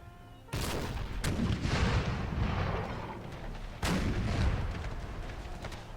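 Artillery and canister fire in an American Civil War video game: two heavy, loud cannon blasts a few seconds apart, each followed by a long rumbling, crackling roll of scattered musketry.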